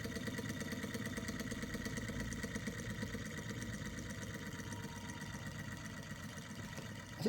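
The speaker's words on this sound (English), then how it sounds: "It's pumping. A very small pump, but it is pumping." A Retrol R01 hot air engine running and pumping, with a steady fast mechanical chugging hum that stays even and close throughout.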